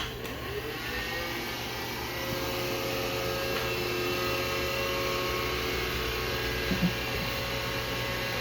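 A cheap automatic robot floor sweeper runs with a steady motor whir and hum, close and constant, slightly swelling midway, with a couple of faint bumps near the end and no talking.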